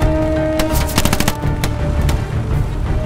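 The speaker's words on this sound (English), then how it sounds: "Bro, we're getting shot at." Rapid gunfire rattles in a realistic video game, a loud close burst of quick shots, then scattered sharper cracks over a constant low background.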